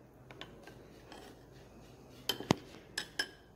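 A spoon stirs kasuri methi and pav bhaji masala through butter in a pan: soft scraping at first, then several sharp metallic clinks and taps close by near the end.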